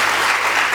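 A hall audience at a women-in-film awards ceremony breaks into dense, steady applause, loud and close, sustained throughout the brief moment with no voices on top.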